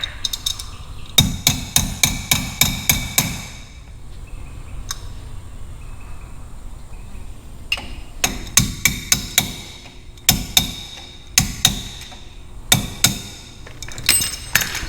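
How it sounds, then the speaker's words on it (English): A crescent wrench used as a hammer strikes a cotter pin in rapid bursts of sharp metallic taps, several clusters of quick blows separated by short pauses, close and loud, during work on a coyote-swapped 1957 Ford Fairlane. "using pliers and a crescent wrench as a hammer"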